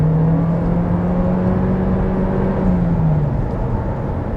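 A 2024 Toyota Corolla Cross hybrid accelerating on the road, its steady engine drone rising slightly in pitch over about four seconds, with a continuous whir and road noise inside the cabin.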